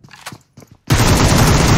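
A sudden sustained burst of rapid automatic gunfire in the mobile video game PUBG Mobile, loud and close, cutting in after a few soft footstep-like thumps.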